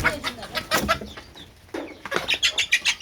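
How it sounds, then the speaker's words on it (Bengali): Native desi chickens, kept alongside a few farm hens and a rooster, cluck in a close series of short, repeated calls with brief pauses, fairly loud and near. "এই যে হচ্ছে দেশি দেশি মুরগিগুলো দেখেন এই যে এইগুলো"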